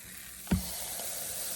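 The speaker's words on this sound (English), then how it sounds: "Hear that sizzle? See the steam? We steam clean our waffle maker." A single short hiss-sizzle as a wet paper towel meets a hot, unplugged waffle maker during steam cleaning, a brief burst followed by faint lingering steam noise.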